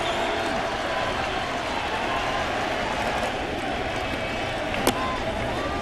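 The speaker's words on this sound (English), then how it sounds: "a sold-out crowd reinvigorated here in the last of the ninth" A sold-out baseball stadium crowd in the last of the ninth inning of a 2013 ALDS playoff game rumbles with a steady, broad roar, with one sharp knock near the end and faint voices beneath.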